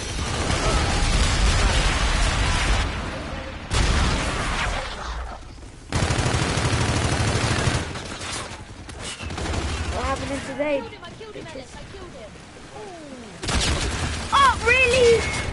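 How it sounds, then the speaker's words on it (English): An enemy bombardment in Call of Duty: Infinite Warfare multiplayer brings dense gunfire bursts and explosions in loud, near-continuous stretches broken by brief gaps, with chirping sci-fi weapon effects and players talking over it. "Enemy bombardment incoming."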